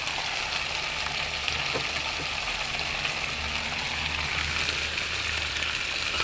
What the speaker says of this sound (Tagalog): Nakakulo na po.